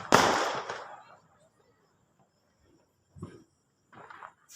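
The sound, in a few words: Diwali firecracker bursting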